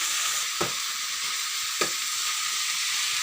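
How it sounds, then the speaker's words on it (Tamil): Eggplant fries in hot oil with a steady, close sizzle throughout, broken by two soft stirring clacks. "நல்லா அந்த எண்ணெயிலே ஃப்ரை ஆகுதுங்க கத்திரிக்காய்."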